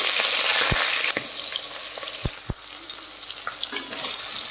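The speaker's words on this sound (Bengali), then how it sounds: "তেল গরম হয়ে গেছে, এখন মাথার মাথাটা আমি ছেড়ে দিচ্ছি" A fish head dropped into hot mustard oil fries with a loud, dense sizzle, punctuated by a few sharp knocks and stirring clatters, close up with no talking.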